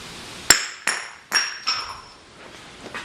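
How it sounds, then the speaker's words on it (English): Four sharp metallic hammer blows ring out on the seized nuts of a broken engine water neck on a 1948 Mercury pickup, each strike close and bright with a short ringing decay. "gave them a little whack with a hammer"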